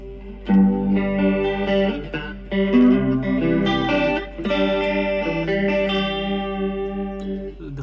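Electric guitar chords and notes through a Cube Baby amp with reverb and chorus, drenched in a shimmering chorus effect, with a lush, slightly wavering tone that rings out steadily and fairly loud.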